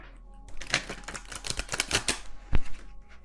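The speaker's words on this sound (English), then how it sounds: "I'm just going to set down, to save time, one more card for each of these" Tarot cards are laid down one after another on a table, making a quick run of close, crisp taps and slaps, with one sharper knock near the end.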